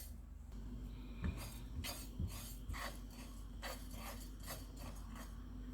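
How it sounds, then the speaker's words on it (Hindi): Cumin seeds dry roasting in a pan on a stove, heard as a steady soft crackle and rasp with repeated scraping strokes of a spoon against the pan, close and fairly quiet, with no talking. "ज़ीरे को ड्राई रोस्ट करेंगे।"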